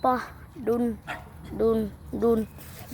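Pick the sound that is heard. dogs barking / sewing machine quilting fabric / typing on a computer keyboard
dogs barking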